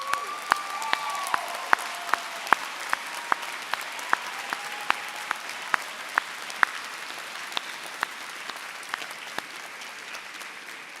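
Graduates at a New York Law School commencement applaud their professors, a dense, sustained wash of clapping from a large crowd with sharp individual claps standing out throughout.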